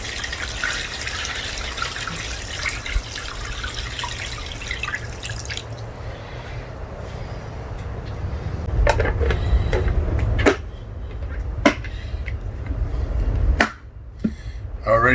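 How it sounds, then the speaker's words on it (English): Cooled brine pours over cut pork meat for tasso, first a steady close splashing stream, then drips and a few sharp knocks and clatters as the pouring slows and stops. "we're going to pour the brine over the top of the meat."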